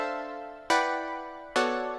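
Layered Juno synthesizer chords in a speed garage track, two sustained harmonic-rich stabs struck about a second apart, each decaying slowly, clean with no talking.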